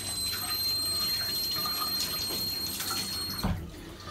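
A tap runs steadily into a sink as a hand is rinsed under the stream, a close, continuous rush of water that breaks off near the end.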